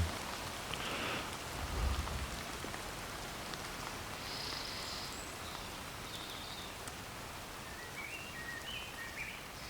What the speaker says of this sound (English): As the rain starts to subside, as the clouds move away, little birdies will come out to sing their song.